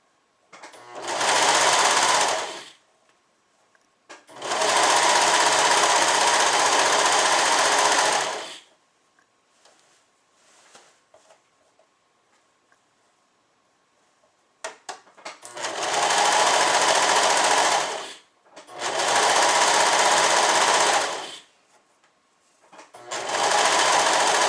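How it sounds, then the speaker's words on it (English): Serger (overlock sewing machine) stitching a seam on a suit: four loud bursts of fast, steady whirring separated by quiet pauses, no voices. "You're going to love having a serger."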